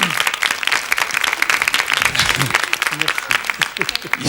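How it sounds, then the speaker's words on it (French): Studio audience applause on the French TV game show L'Académie des 9, a dense clatter of clapping with a voice talking over it throughout. "Nous vous applaudissons."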